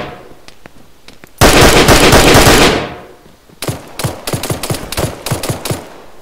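Rapid automatic gunfire in the military shooter Arma 3, a loud sustained burst followed after a pause by a string of sharp separate shots and short volleys, close and forceful with no talking.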